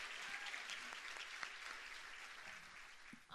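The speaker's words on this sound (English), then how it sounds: "Applause for our accompanist Giulio Broni" Applause from an audience at a student performance event, honoring the accompanist; steady, moderately faint clapping throughout, with a brief voice at the very end.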